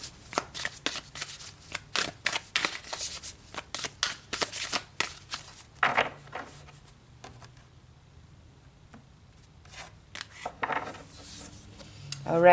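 Tarot cards are shuffled by hand in repeated quick riffles and papery flicks, close and moderately quiet, with a pause and then more shuffling toward the end.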